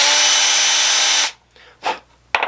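Power drill used while reloading 300 Blackout subsonic ammunition whirs loudly and steadily for over a second, then cuts off, followed by a couple of brief handling knocks and scrapes.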